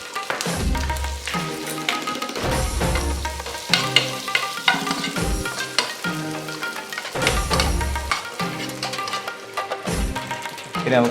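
Chopped garlic sizzles in butter in a hot pan, a steady crackling fry broken by repeated stirring scrapes and clinks, loud and close throughout.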